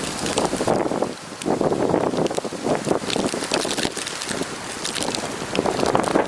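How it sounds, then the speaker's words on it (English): Strong wind roars and buffets the microphone during an April snowstorm in Minnesota, a loud continuous rushing with gusty surges throughout and no voices. "it's so windy out there"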